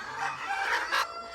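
Farm chickens clucking and calling nearby, a rooster's crow rising briefly through the overlapping bird noise.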